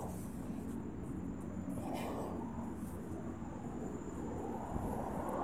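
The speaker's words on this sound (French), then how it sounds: "Vous voyez un avion qui vient d'atterrir." An airplane that has just landed at an airport gives a low, steady rumbling roar heard from outside across the way, continuous and moderately distant with no talking.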